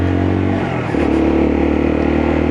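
A Lexmoto Assault motorcycle engine revs up sharply partway through, its buzzing tone rising and holding steady, loud and close.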